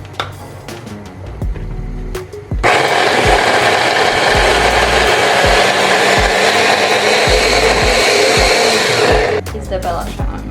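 A kitchen blender whirs loudly at high speed, chopping ginger and half an onion in a steady roar of about seven seconds. Clicks and handling noises come before it, and it cuts off abruptly.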